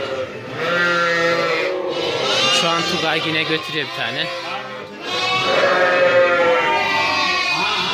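Kangal sheep bleat loudly and continuously as ewes meet their lambs, many overlapping calls close by, while someone talks over the flock.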